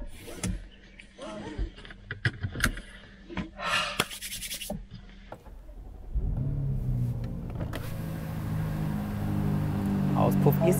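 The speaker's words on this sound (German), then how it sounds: "Auspuff ist schon auf laut." A BMW X6 M Competition with 625 hp and its exhaust switched to loud mode: scattered clicks and cabin handling noises, then the engine fires at about six seconds into a deep, steady idle rumble that grows slightly louder.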